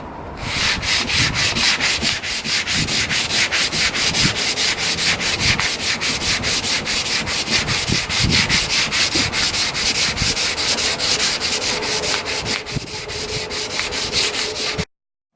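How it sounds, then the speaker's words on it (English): Steady hand sanding of a Kawasaki KZ400 motorcycle fuel tank with 220 grit paper on a flexible sanding block: a close, continuous rhythmic scraping of rapid back-and-forth strokes that stops abruptly at the end. "I got some 220 grit and a flexible sanding block, and I'm just going to start knocking this down a little bit"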